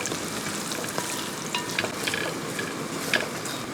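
Grated coconut and sliced onion fry together in a pan for a beef biryani, giving a steady close sizzle with light stirring scrapes and small crackles throughout, no voices.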